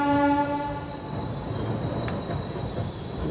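An LHB Garib Rath Express train runs steadily after leaving Kannur, with continuous close rumble of wheels on rail, a brief horn-like tone at the start, and faint squealing touches throughout.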